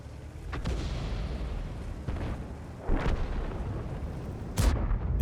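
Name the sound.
tank gun shots fired in a tank video game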